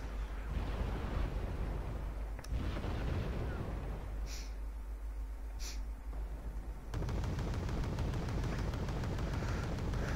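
Mortar artillery in the video game Wargame: Red Dragon, a continuous rumbling battle din with distant booms and a couple of sharper high impacts, loud and unbroken throughout.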